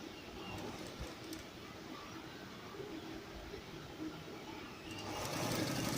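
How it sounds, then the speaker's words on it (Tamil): Sewing machine stitching the top edge of a fabric face mask, a faint steady mechanical whir that runs without a break and swells slightly louder near the end, with no speech. "இது வந்து மேல் சைடு முதல்ல வந்து ஒரு தையல் அடிச்சிடலாம்."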